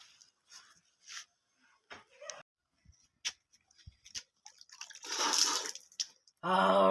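Water splashes and drips from someone washing their face, coming as short intermittent splashes with a longer, louder burst of splashing near the end, followed by a voice.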